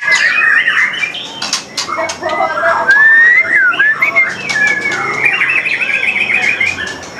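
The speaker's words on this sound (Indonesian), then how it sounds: "Burung murainya di bagian atas nih" A white-rumped shama (murai batu) sings up close, loud and clear, in a run of varied whistles, trills and chirps with short pauses. Faint talk and background noise sit underneath.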